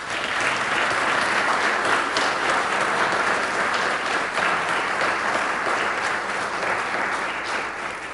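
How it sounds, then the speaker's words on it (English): An audience applauds steadily for about eight seconds, a dense, continuous clatter of many hands clapping indoors, loud and even throughout with no voices standing out. "who I would like us to give them a special round of applause."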